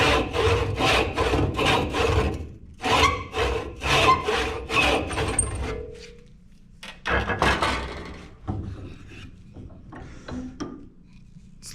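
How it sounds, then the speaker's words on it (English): A crosscut hand saw cuts through wood with a steady run of close, rasping back-and-forth strokes, followed by quieter scraping and handling noises. "We'll go to the crosscut saw."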